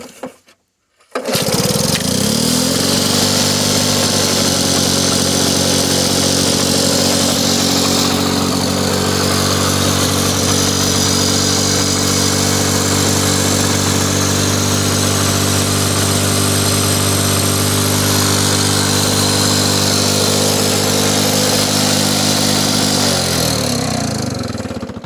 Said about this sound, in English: So that one's been the trim mower for around the property because it's really light and maneuverable.